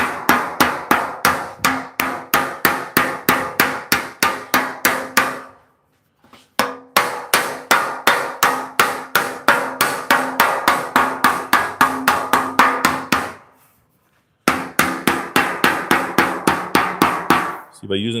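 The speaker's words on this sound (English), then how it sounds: "by using two soft hammer and a dolly, it doesn't scratch or cut the metal, it just shapes it." Steady, fast soft-hammer blows shaping metal on a dolly for a 1938 Cadillac, dozens of close, ringing blows in long runs broken by two brief pauses.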